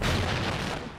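Heavy gunfire in the video game Call of Duty Ghosts, a loud, booming wall of shots and blasts held throughout one second before easing off slightly at the end.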